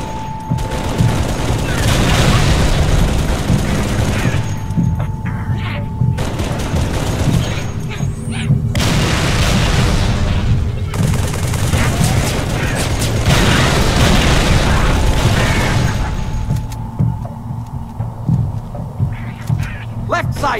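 Turret gunfire and explosions in the Halo 3 ODST campaign rattle on loudly and almost without a break, with booming blasts layered over continuous firing while voices shout orders.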